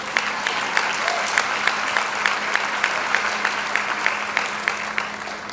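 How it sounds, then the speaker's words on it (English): An audience applauding a vice chancellor at a university first-year student orientation, a steady, even mass of clapping in a large hall with a few sharper hands cutting through, continuing throughout. "I thought I would get a round of applause"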